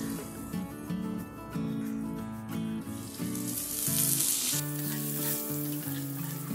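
Mixed vegetables with turmeric powder sizzle in oil in a pan, a continuous frying hiss under prominent background music.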